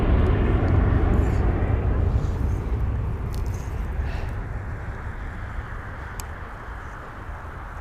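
An EasyJet airliner roars loudly at Birmingham Airport, a broad rumbling jet noise that fades slowly as it moves away.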